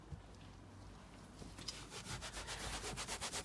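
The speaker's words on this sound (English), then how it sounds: "You're not rubbing hard with this or anything like that, but you can see straight away that it's taking the colour off the surface there" Rhythmic rubbing strokes on the leather seat surface of a Volvo car interior, lifting the colour during restoration prep; faint at first, then a steady series of close, quickening scrubbing passes with no talk.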